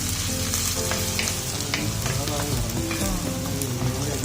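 Small onions and shallots sauté steadily in a pan for pork curry, a dense continuous sizzle and crackle with occasional stirring scrapes, close and even throughout.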